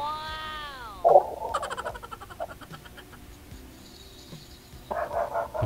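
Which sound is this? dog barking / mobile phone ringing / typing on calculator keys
dog barking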